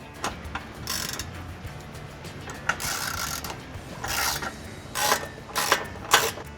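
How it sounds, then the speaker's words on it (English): A ratchet with a 12mm socket clicks in short irregular bursts while tightening bolts on a 2018-2021 Mitsubishi Eclipse Cross during a trailer hitch install, close and fairly quiet, with faint metallic rubbing between strokes. "again using our 12mm socket."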